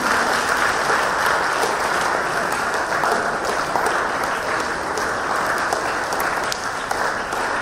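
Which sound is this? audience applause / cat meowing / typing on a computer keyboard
audience applause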